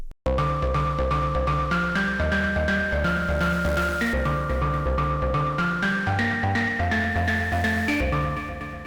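A synthesizer patch built in the Vital soft synth plays a continuous melody with chordal layers and a steady rhythmic pulse, loud and sustained throughout without any talking.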